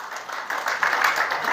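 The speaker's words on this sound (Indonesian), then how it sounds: "Tepuk tangan bagi Yesus" Congregation clapping for Jesus during a church worship service, a steady crowd applause that swells slightly and holds for the whole moment, close and fairly loud with no talking over it.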